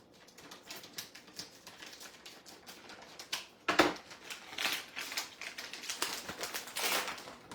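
A plastic bag of dried cherries being cut and torn open, giving close crinkling, rustling and snipping with a sharper tearing burst midway, continuing as irregular crackles with no speech.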